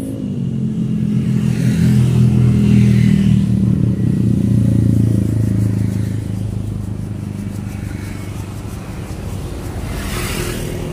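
Several motorcycles pass along a busy road, their engines rumbling and revving loudly and close, rising and falling in overlapping waves with some clatter.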